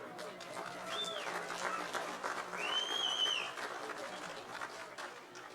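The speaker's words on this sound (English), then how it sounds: "Let's give him a round of applause." A crowd claps for the captain of the premiership-winning side at a First Grade Grand Final, the sustained applause cut through by a couple of sharp rising whistles and scattered cheers.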